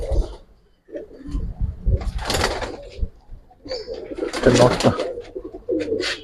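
Old-breed Giribaz pigeons coo in bursts inside a loft, mixed with bumps and clatter from handling, the sounds near and uneven.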